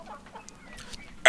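A short run of soft chicken clucks from the video game Earthworm Jim 3D, fairly quiet, ending in a sudden louder burst of sound.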